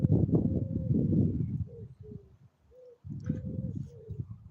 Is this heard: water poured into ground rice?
no